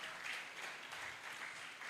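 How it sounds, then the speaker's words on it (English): An audience at an educator programme launch applauds, a dense, fairly faint patter of many hands clapping steadily for a couple of seconds, with no voices. "Please give yourself a round of applause."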